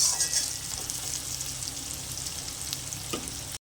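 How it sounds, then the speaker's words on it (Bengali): Chopped onions and green chillies frying in a pan of oil, giving a dense, continuous close-up sizzle with soft stirring clicks near the end and no talking. "দিয়ে ভালো করে পেঁয়াজটা একটু ভেজে নেব"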